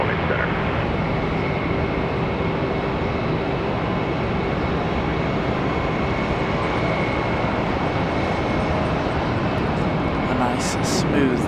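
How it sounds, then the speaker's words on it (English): A jet airliner landing at Charlotte Douglas airport, with a sustained loud broadband engine and wind roar that holds steady from a moderate distance. "smooth touchdown."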